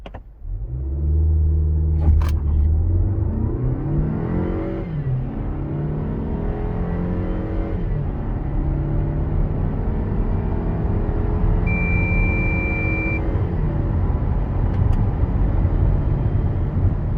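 SsangYong Korando 1.5 T-GDi with automatic gearbox accelerating hard to 100 km/h, heard from inside as a steady engine drone that rises in pitch through several gear changes; continuous, fairly loud, with no talking.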